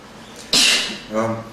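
A single sharp sneeze during a formal spoken session on law and rights, a loud burst followed by a short voiced exhale, close to the microphone.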